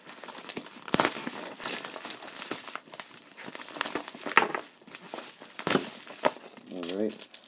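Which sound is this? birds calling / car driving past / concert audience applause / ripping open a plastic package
ripping open a plastic package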